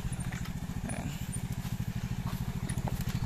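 A motorcycle engine runs steadily close by at a rural farm property, its rapid, even low putter continuing throughout with faint outdoor noise above.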